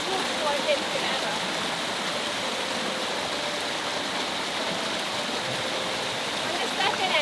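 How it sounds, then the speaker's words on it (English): A waterfall on an island in the Pacific Northwest, pouring down beside a stump. It makes a constant, loud rushing roar that stays even throughout and fills the whole scene. "this is the coolest waterfall I've been to ever."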